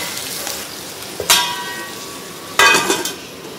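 Food sautéing in a pan during home cooking for a clay-pot fish curry, a steady soft sizzle throughout, with two louder bursts of stirring or pan scraping, close and without talk.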